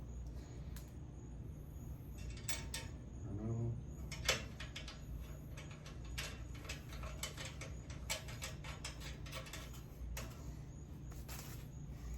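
A trailer ramp bracket is bolted in place with rapid ratcheting clicks in short bursts, faint and close, over a low steady background hum.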